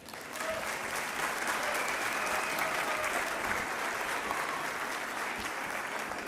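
Sustained audience applause fills a celebration at the Hungarian Society hall in Villa Angela, Chaco, a steady dense clapping that holds at even loudness for the whole stretch after a brief quieter start.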